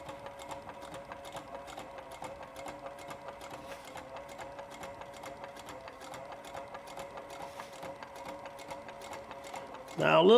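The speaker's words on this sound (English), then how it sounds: "Now I'm just going to sew back up the other side." A sewing machine stitches up the side of a leather dopp kit with a fast, steady mechanical chatter of needle strokes. It runs continuously at a quiet, close level, with a brief louder knock at the end.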